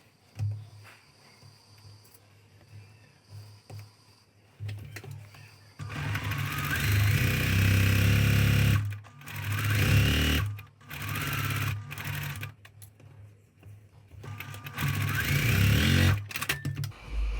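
A sewing machine stitches quilt pieces for a pieced basket block, running in loud sustained bursts after a quiet start, with brief pauses between runs.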